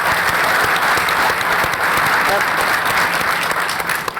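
Sustained applause from a large audience at the World Bank annual meetings, steady and loud throughout with dense clapping filling the room.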